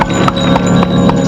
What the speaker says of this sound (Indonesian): dan Dorman pun cegat delman itu untuk menjaga ketertiban dan keamanan